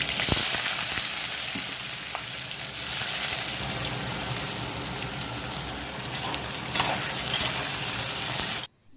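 Raw cut potatoes frying in pure ghee with cumin seeds and green chillies give off a steady, dense sizzle close by. It runs unbroken for about nine seconds and cuts off at the end.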